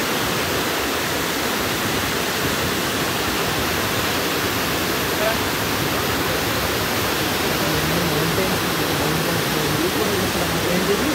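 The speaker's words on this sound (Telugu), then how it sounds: "ఈ జాగ్ ఫాల్ యొక్క హైట్ 830 ఫీట్, అంటే 253 మీటర్స్ అంట." Jog Falls in Karnataka, a waterfall about 253 metres high, produces a loud, unbroken broadband roar of falling water that stays constant throughout.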